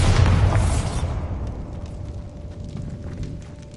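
A Bombarda spell explosion in Hogwarts Legacy goes off as a loud, close boom that fades over a few seconds into a rumbling tail with faint crackling debris.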